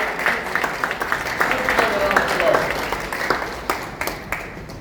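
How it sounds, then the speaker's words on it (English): A room of workshop attendees at a Nigerian national AI event breaks into sustained applause, with individual claps popping through a dense wash. "we should give them a round of applause"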